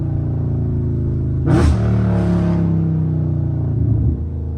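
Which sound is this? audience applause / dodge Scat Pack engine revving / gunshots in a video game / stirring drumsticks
dodge Scat Pack engine revving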